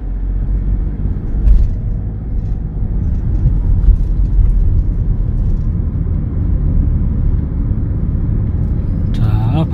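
A learner's car in a road driving test at the Ulsan licence test centre pulls away from a stop, a steady low engine rumble holding throughout with a brief louder swell near the end, with no talking.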